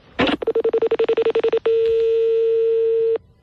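A telephone number is dialed: a rapid string of about a dozen short, evenly spaced tones, then a steady continuous tone held for about a second and a half before cutting off, with no talking.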